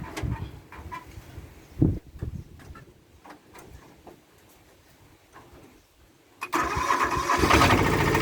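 A Kubota SR-J3 tractor engine cranks with a few short bursts, then fires into a loud, steady running rumble close by, with faint birds in the quieter background before it catches.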